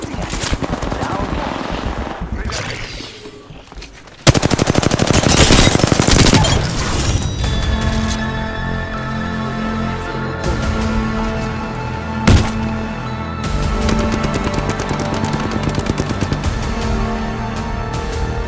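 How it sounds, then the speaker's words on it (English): Gunfire in an Apex Legends match: rapid automatic bursts and single shots, loud and close, with a sharp blast partway through and game voices talking over parts of it. "They're shooting at him."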